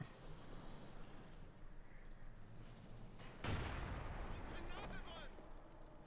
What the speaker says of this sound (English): Cromwell blasting away